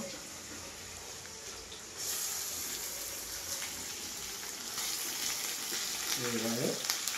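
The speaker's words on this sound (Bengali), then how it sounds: "পেঁয়াজ আর টমেটো ভাজা হয়ে গেছে, এবার মাংসটা আমি দেবো।" Chicken meat goes into a pan of fried onion and tomato, bringing a steady, close sizzle that jumps louder partway through and keeps crackling, with a brief stirring or scraping sound near the end.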